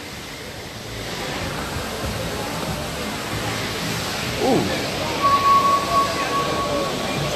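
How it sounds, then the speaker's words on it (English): A large water fountain splashing at a hotel in Nashville, Tennessee, a steady broad rushing hiss of falling water throughout, with a brief voice exclaiming and a faint tone near the end. "It's a big old water fountain."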